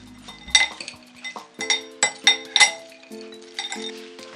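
Utensils clink against a dish while Christmas pasta is mixed, a quick series of bright close metallic and glassy taps in uneven bursts, with no talking.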